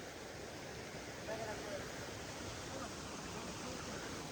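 Saatsada waterfall in heavy flow, a dense, constant roar of rushing water that fills the scene evenly and loudly from start to finish without any break.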